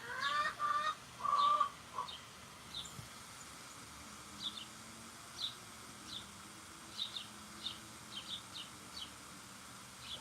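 Chickens cluck at a distance, with a few louder calls at the start and then a steady series of short, faint clucks spread evenly across a quiet outdoor background.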